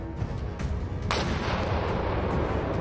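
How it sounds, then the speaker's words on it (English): High-explosive FPV kamikaze drone blowing up inside a forest shelter on a Ukrainian battlefield, heavy booming blasts with a sharp crack about a second in, followed by sustained rumbling roar. "The drone exploded after entering the shelter built in the forest."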